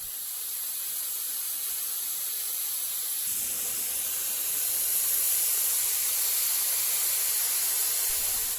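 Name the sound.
spray application of Stabond contact cement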